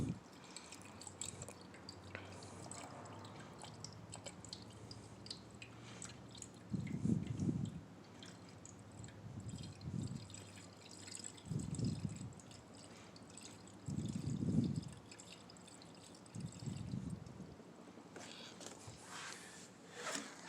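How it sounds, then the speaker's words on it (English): Blue Engine Ice coolant pours into the radiator of a 2001 Yamaha YZF-R1 motorcycle, coming as several short gurgling, glugging bursts spaced a few seconds apart, close and moderately loud over faint background hiss. "Pour some of this good old blue engine ice in there."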